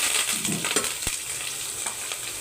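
Cumin, mustard seeds, dried red chillies and chopped onion sizzle in hot ghee for a dal tempering, a steady close crackling fry with a sharp pop partway through and no voices.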